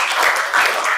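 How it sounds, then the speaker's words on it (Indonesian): Steady applause from a school class fills the clip, a dense wash of many hands clapping together, fairly loud and continuous with no talking. "Beri tepuk tangan untuk kalian semua"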